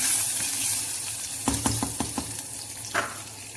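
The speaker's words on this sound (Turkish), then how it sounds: "kaynamış suyumu ilave ediyorum. Biraz karıştırıyorum." Boiled water is added to a bowl and stirred while making a star vermicelli salad: a soft watery hiss runs throughout, with a quick series of close clinks and scrapes of stirring in the bowl.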